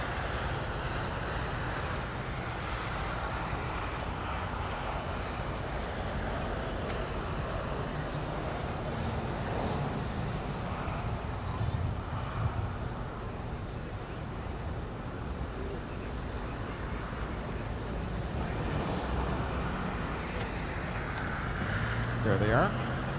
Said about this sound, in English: This is United Flight 2019 to San Francisco with a 737-900 ER.